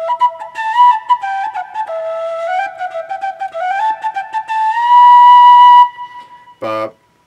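Tin whistle playing a short run of cleanly tongued notes, each separately articulated, bright and close, ending in a sustained tone and then a brief rough blip after a pause.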